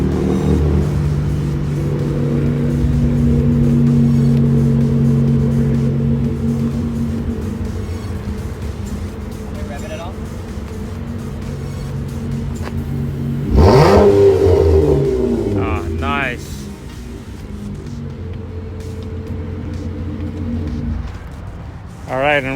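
Van fitted with a MagnaFlow catback exhaust at an outdoor van meet, revving in a sharp rising burst mid-clip over background engine rumble and crowd chatter, then settling to idle with a few shorter blips.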